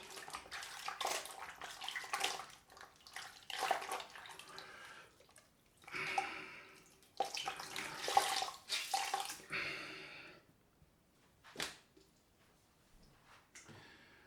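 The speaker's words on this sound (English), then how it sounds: "I'm just going to clean off this cloth." A shaving cloth rinsed under running tap water during a straight-razor shave makes intermittent splashing and gurgling bursts with drips. It is close and moderately loud, stopping and starting with quiet gaps between.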